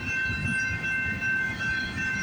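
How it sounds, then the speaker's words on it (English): The tail end of a westbound intermodal freight train rolling past on the CN Dundas Subdivision near Hardy, with a steady rumble and rail noise and a faint continuous high squeal. "There's the end of that unknown westbound intermodal train."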